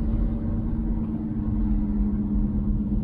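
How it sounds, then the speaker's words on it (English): A car on the road with a badly worn wheel bearing, its steady loud droning hum and rumble continuing unbroken throughout, with no voices. "Other than that horrendous wheel bearing noise, I can't hear anything else."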